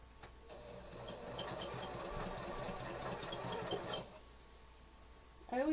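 A sewing machine runs steadily, stitching the top and bottom borders onto a Halloween quilt, a continuous mid-level hum lasting several seconds before stopping abruptly.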